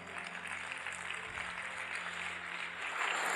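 A church congregation's applause during a Spanish-language sermon forms a dense, continuous wash of clapping that swells slightly toward the end, with no talking over it.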